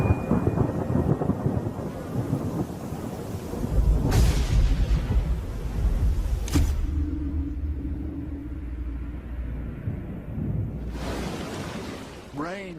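Thunderstorm with steady rain falling across the Serengeti plains, low rumbling thunder rolling in several times over a constant wash of rainfall, with a sharp crack near the middle; a voice briefly speaks over it.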